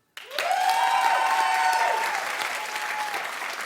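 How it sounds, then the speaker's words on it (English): A television talk-show studio audience breaks into sudden applause that holds loud and dense for several seconds, with some whoops mixed in, then eases slightly while continuing. "clap if you would rather Kim"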